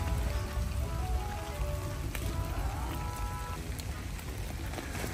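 Steady, dense rain drums on a tent during a heavy storm at an Italian campsite, a close, continuous patter with sharp individual drop hits throughout.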